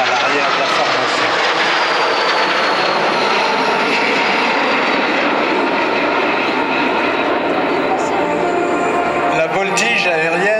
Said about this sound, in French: La voltige aérienne, lorsqu'elle est pratiquée à plusieurs avions